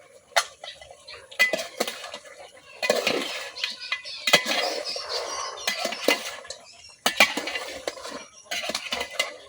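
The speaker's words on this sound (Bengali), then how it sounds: "এখন মাংসের সাথে আলুটা কিছুক্ষণ কষাই নেব।" Meat and potatoes are stir-fried together in a pot in a village kitchen, with irregular scraping and clanking of a metal spoon against the pot in bursts and only a faint sizzle beneath.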